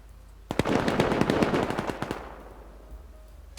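Rapid automatic gunfire during a raid in the video game Rust, a loud close burst of sharp repeated shots lasting about two seconds, then tailing off into a fading echo with a faint single shot afterward.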